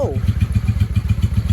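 A 1995 Honda Shadow VLX 600 V-twin motorcycle engine idles loud and close with a steady, lumpy low pulsing beat. A brief voice sounds at the very start.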